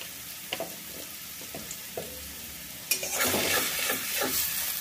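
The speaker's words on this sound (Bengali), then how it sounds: "একেবারে মিডিয়াম ফ্লেমে এটাকে নাড়াচাড়া করে ভালোভাবে একটু ভেজে নেব" Green banana peel paste being stirred and fried in a pan over a medium flame, with soft scraping strokes at first, then a louder, steady sizzle and stirring clatter from about three seconds on.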